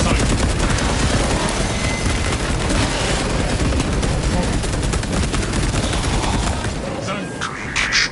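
Dense, loud battlefield gunfire and artillery in a Warhammer game, a continuous barrage of rapid shots and booms that thins slightly near the end, with game voices mixed in.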